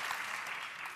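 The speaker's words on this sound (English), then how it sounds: "yeah, we got some applause" Studio audience applause on a television talk show, a brief soft wash of clapping at low level.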